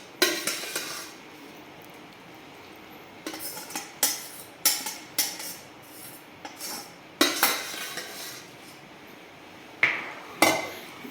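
A spoon scrapes and clanks against a metal pot while cooked rice is stirred for ghee payasam, sharp separate knocks in irregular bursts with quiet gaps between them.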